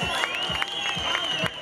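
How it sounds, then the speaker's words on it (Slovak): Audience applause and cheering at a 2004 motorcycle rally raffle in Kalša, a steady crowd wash of clapping that carries on under a loudspeaker voice calling out. "Potlesk!"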